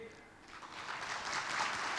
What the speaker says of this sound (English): A big round of applause for RI President for the very insightful and inspiring speech